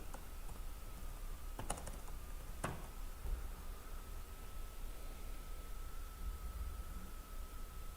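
Computer keyboard typing during a live stream, soft continuous key patter with a few sharper clicks, close and low over a steady background hiss, no voice.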